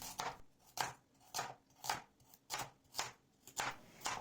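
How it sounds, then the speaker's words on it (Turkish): Steady knife chops through a carrot on a cutting board, about nine evenly spaced thuds in a brisk rhythm, close and clear with no talking. "1 adet havucu iri iri doğruyorum."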